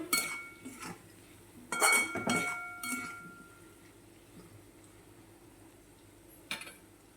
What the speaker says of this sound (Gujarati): તેમાં આપણે નાખી દઈશું સૂકી દ્રાક્ષ અને બરાબર મિક્સ કરી દઈશું